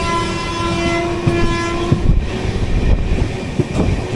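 The 16592 Hampi Express pulls into Gadag station: a steady, close rail rumble with faint wheel clicks and a sustained horn-like tone running beneath it.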